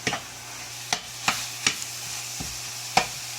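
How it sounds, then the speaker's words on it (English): Seasoned ground beef mixed together in a bowl, giving a handful of soft, scattered scraping clicks over a low steady hum, with no talk. "And you just mix them all together."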